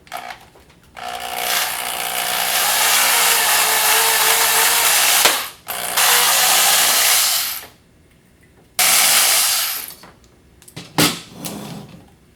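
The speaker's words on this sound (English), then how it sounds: "I'm going to drill out these pop rivets" A drill with a 7/64-inch bit bores out pop rivets on the metal end cap of a shop light, in several bursts of whirring separated by short pauses, with clicks and clatter near the end.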